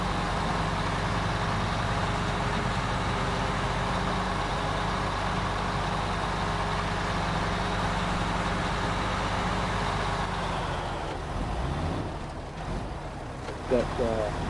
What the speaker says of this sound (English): that engine sounds pretty cool. I like the sound of it. It's definitely different from the regular truck sound